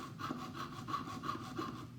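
A hand saw cuts through a coiled wire wound on a wooden dowel to make jump rings. The strokes are steady and rhythmic, six or so back-and-forth passes, close but fairly quiet, with no talking.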